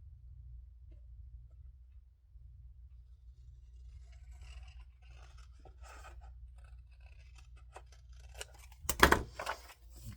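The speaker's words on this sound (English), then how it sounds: "since we're using cardstock, I'm probably going to cut it off" Scissors snip through cardstock in a quiet room, with soft scattered cuts over a low hum and one louder, sharper burst of cutting near the end.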